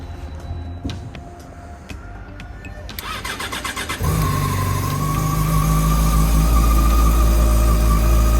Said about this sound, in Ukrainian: Спочатку давайте будемо пробувати заводити. Він холодний.